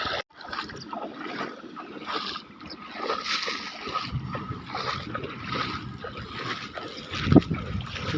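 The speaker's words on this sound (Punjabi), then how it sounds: "ਠੰਡੇ ਠੰਡੇ ਪਾਣੀ 'ਚ ਪੈਰ ਪਾਏ ਆ" Feet sloshing and splashing in cold water, a steady close churning wash with irregular surges and a sharper splash near the end.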